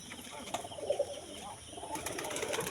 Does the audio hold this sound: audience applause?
no